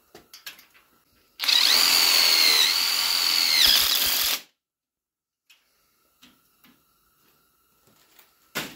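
A power drill drives a self-tapping screw through a thick piece of metal on a garden cart railing: one loud, steady whir of about three seconds with a rising pitch, ending in a few ticks, then near silence.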